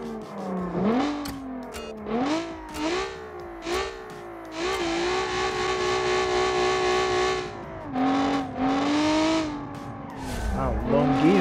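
A rally car's engine in BeamNG.Drive revs up and holds through long gears, a loud buzzing whine that rises, sags between shifts and climbs again, with brief tire squeals and a voice talking over parts of it.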